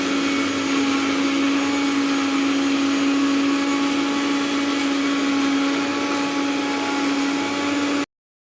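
A kitchen mixer grinder whirs loudly and steadily as it blends ginger, shallots and garlic into a paste. The motor drones evenly with a strong tonal hum, alone and uninterrupted, then cuts off abruptly.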